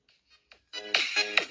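A short run of bright, tonal electronic music plays alone, starting faint with a few soft notes, then swelling into louder chiming melodic phrases.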